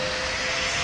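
Airliner jet engines roaring steadily during takeoff in the flight game PTFS, a dense, loud broadband rush with a sustained tonal whine, no talking.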